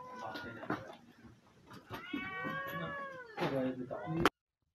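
Several cats meowing in close succession, overlapping plaintive yowls and drawn-out caterwauls from the cat meat trade, close and clear with people talking between the cries, ending abruptly.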